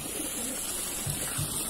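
Taiwan Gold fighting pigeons coo softly in a bird-keeping setting, with two short, low coos close together over a quiet background.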